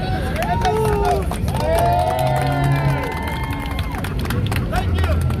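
A street show crowd in New York claps and cheers loudly and steadily, a bustling outdoor roar of applause and shouts with a performer's voice carrying over it.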